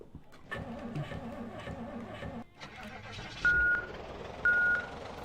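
Vehicle reversing alarm in the Project Zomboid video game: two short, loud tonal beeps rising clearly above a steady engine and ambient game background, with a voice talking over the first half.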